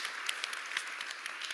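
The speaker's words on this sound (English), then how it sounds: "a round of applause for our panelists," A round of applause from an audience for the panelists at the opening ceremony of the 31st Afreximbank Annual Meetings, heard as a quiet, steady crackle of many hands clapping at a distance.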